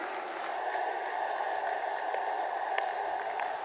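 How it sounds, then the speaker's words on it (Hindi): A large rally crowd in Lucknow applauding to welcome Narendra Modi during the 2017 UP election campaign, dense continuous clapping with a distant crowd roar, steady and sustained. "खड़े होकर अपने स्थानों से तालियों के गड़गड़ाहट से जबरदस्त स्वागत करें मित्रों"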